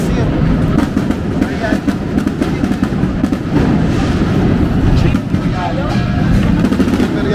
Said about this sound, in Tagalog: Kahit maingay sa labas kasi may fireworks.